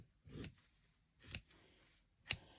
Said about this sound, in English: I'm going to grab my little scissors.